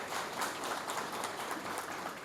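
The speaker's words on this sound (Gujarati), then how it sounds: "આપણે એમનું ચોક્કસપણે કમસે કમ તાળીઓથી સન્માન કરીએ" Audience applause honoring Dr. Ankita Mulani at the Vardhaman Sangh Dadar lecture series, a dense, steady wash of many hands clapping throughout, fairly close and with no talking over it.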